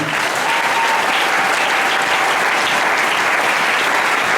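A church congregation applauds loudly during a French-language sermon, a dense, sustained wash of clapping that fills the whole stretch without a break.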